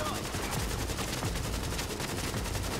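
An enemy fires continuously in a video game, with dense, loud, fast rattling automatic shots filling the whole stretch and a voice faintly underneath.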